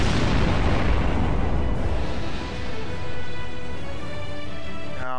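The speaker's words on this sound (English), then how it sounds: "Prepare to fire the Vanguard cannon." The Vanguard cannon firing in the Sunrider space game, a single massive loud blast that rolls into a long decaying rumble and whine, close and alone with no talking.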